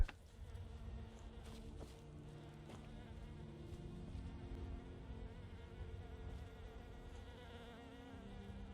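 Insect buzzing from bees around a beehive in Skyrim, a steady low drone holding throughout with faint game ambience and no talk.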